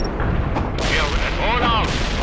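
Gunfire and artillery from the video game World in Conflict, heavy booms and rumbling blasts with a sweeping whine overhead, all dense and loud across the short stretch.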